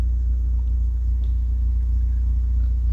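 Turbocharged Suzuki Swift ZC31S with a TM-square setup idling, a steady low engine rumble held evenly and close throughout, no revving and no voices.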